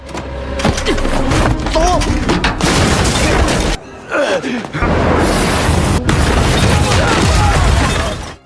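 Loud, dense explosion blast in an action film as a bomb hidden on a man's back detonates, a roaring rumble with crackling debris that drops out briefly, then returns with continued booming and scattered bursts.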